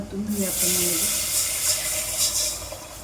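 Water is poured into a hot pan of spiced masala with grated ginger, garlic and garam masala for masala rice, and a loud, steady sizzling hiss bursts up and holds throughout, with a brief voice near the start.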